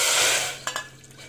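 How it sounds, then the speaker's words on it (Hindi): Water is poured into a pan on the stove while making kada prasad with wheat flour and sugar: a brief splashing pour that fades, then a couple of light metallic clinks. "ये दूसरी तरफ हम चार कटोरी पानी डाल लेते हैं"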